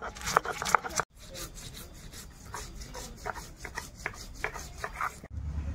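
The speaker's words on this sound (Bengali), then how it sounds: "এখন আমি কালো সর্ষে, গোটা জিরে আর গাছের বাগান থেকে তোলা কাঁচা লঙ্কা একসঙ্গে বেটে নেব" Black mustard seeds, whole cumin and fresh green chillies ground into paste on a stone, with rhythmic rasping back-and-forth rubbing strokes close by and a brief pause near the start.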